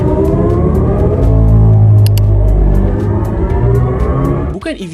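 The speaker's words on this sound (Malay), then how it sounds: "BMW memberi green light untuk Hans mengubal engine noise dari BMW i-Series lineup" Artificial engine sound for BMW i-Series electric cars, composed by Hans Zimmer: a loud, sustained, swelling synthetic drone with layered tones and pulsing texture, rising in intensity before cutting off abruptly near the end.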